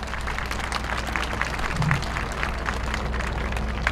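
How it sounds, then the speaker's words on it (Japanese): Steady applause from an audience at the 2023 Inuyama dance festival in Japan: dense, continuous clapping from a crowd, fairly even in loudness throughout, with no voices. "皆様大きな拍手でお願いいたします"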